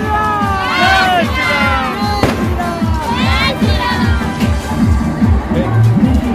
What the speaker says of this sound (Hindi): इतनी भीड़ है कि लोग आगे नहीं चल पा रहे हैं।